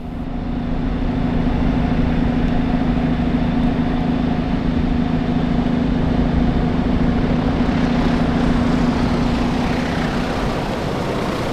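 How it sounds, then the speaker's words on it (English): Loud, continuous engine roar of a landing airplane passing low overhead on an Australian island, a steady droning hum with a strong tonal whine that slowly shifts. "our path is suddenly interrupted by a landing plane"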